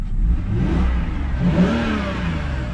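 A BMW E46 wagon engine with an exhaust leak revs up and settles, a steady mid-pitched roar with a slight rasp, heard close with no talking.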